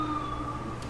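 An ambulance siren in the EmergeNYC video game, a steady wailing tone held continuously through a short moment, moderately loud over background noise.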